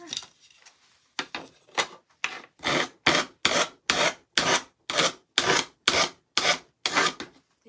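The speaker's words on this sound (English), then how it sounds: "It helps when you have a good piece of sandpaper." Hand sanding with a piece of sandpaper on a craft piece, a run of about a dozen loud, rhythmic back-and-forth rasping strokes that grow stronger and more regular after a few tentative opening passes.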